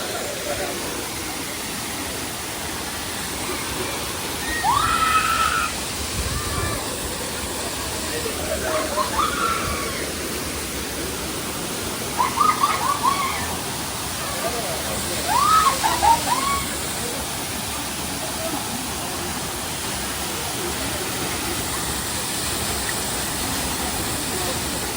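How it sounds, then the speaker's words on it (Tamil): Agathiyar waterfall at Papanasam gushing forcefully as a steady, loud broadband roar through the whole stretch, with a few brief bird-like chirps and faint voices in the background. "தண்ணி பாருங்க என்ன ஃபோர்ஸாக ஒழுகுது."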